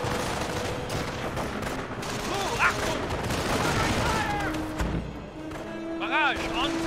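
Video game battle soundscape of an artillery barrage with dense gunfire and rolling explosions, a continuous loud roar of shots and blasts with voices talking over the din.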